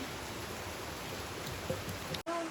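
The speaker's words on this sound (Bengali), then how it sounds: "বৃষ্টি আবার জোরে আসছে, বাইরের দিকে তাকিয়ে তাকিয়ে বৃষ্টি দেখছি আর রান্না করছি।" Heavy rain pours steadily outside during a day of storms following a cyclone, a dense, even hiss that holds throughout, broken by a brief dropout near the end.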